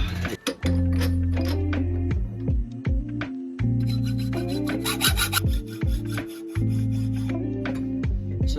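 A hand saw rasps back and forth through EMT conduit pipe in repeated tonal strokes, pausing between passes, followed by filing and deburring of the cut end, close up and alone.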